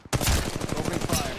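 Rapid automatic gunfire from Apex Legends Mobile, a burst of closely spaced loud shots rattling continuously for over a second after a brief quiet start.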